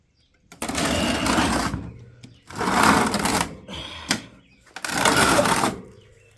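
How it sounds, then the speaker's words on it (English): Fan motor of a 1987 Montgomery Wards by Frigidaire 7000 BTU window air conditioner, model VWE-5157A, whirring up loud and close in three separate bursts with short gaps between. "Here's your fan motor."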